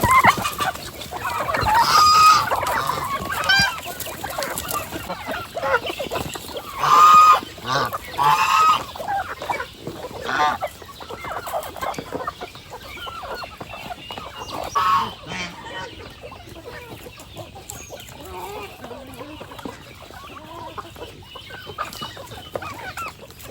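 A flock of chickens clucks busily while being fed organic feed, with a rooster crowing and goose-like honks mixed in, loud and close, plus scattered voices.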